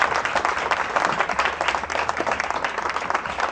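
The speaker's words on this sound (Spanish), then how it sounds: "ahora de un aplauso al caballero, por favor, fuerte" An audience gives a gentleman a round of applause, steady dense clapping that fills the room and carries on without a break, with no voices over it.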